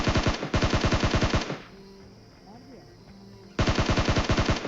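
Automatic gunfire rattles during a video game shootout: a long rapid burst, a quieter pause with faint game effects, then a second rapid burst, all loud and close.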